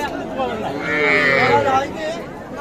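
A calf lets out a long, loud moo close by at a busy cattle market in Amvari, with a murmur of livestock and people in the background.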